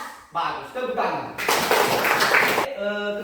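Students in a classroom clap their hands, a short burst of brisk, fairly close clapping lasting about a second between stretches of a teacher's voice.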